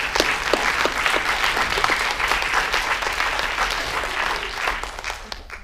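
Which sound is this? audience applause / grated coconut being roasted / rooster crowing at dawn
audience applause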